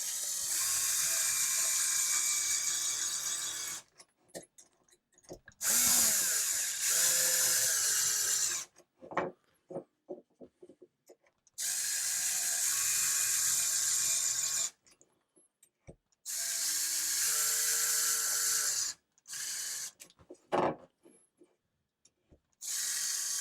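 Ratchet wrench fitted with a Crosize universal socket tightening screws into pre-drilled holes, heard as several long bursts of rapid, close mechanical clicking separated by short pauses and brief rattles.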